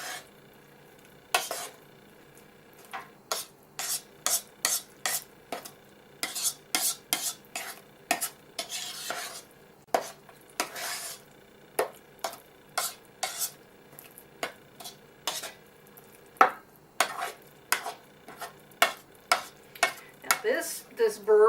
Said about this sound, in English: just want to make sure that when you're mixing this together that everything is all mixed up.